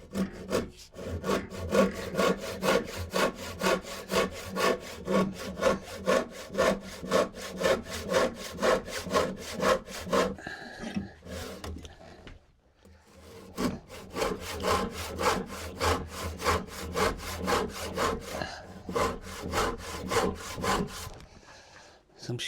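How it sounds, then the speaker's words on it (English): A tenon saw cuts through wooden workbench stretchers in fast, even back-and-forth strokes, loud and close, with a short pause partway through before the sawing starts again. "So I'm just going to use a tenon saw actually."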